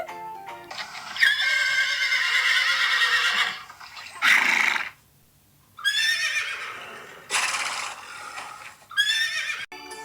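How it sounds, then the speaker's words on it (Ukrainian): A horse neighs and whinnies in several loud, close bursts separated by short pauses, each call high and shrill with a trembling quality, with faint hoof clops in between and no voices. "А вже ж це кінь"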